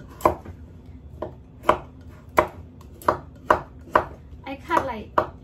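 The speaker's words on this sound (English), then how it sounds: "I'm gonna cut out the skin a little bit." Knife chopping through pumpkin skin on a cutting board, about ten sharp, evenly spaced thuds close up, with a brief scraping flurry near the end.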